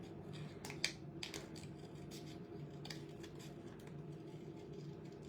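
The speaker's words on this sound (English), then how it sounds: "we're just going to go ahead and cut this out pretty quickly" Scissors snip out an embossed paper card piece in a quick series of close, crisp cuts at the start, then the sound continues as a quieter run of faint snips and paper rustle.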